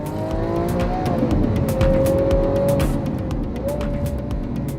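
A 2017 Lamborghini Aventador S's 740-horsepower V12 fills the cockpit, heard from inside as a loud, steady engine drone that rises and shifts in pitch as it revs, with no talking over it.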